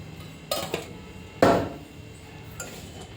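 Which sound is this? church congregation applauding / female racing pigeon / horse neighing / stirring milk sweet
stirring milk sweet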